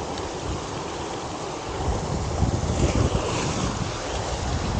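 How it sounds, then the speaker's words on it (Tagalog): Loud sea surf crashing on the shore at Lian, Batangas, with strong wind buffeting the microphone, a steady roar that swells midway with no voices. "Kaso lang itong alon, no? Uy! Lakas ng hangin."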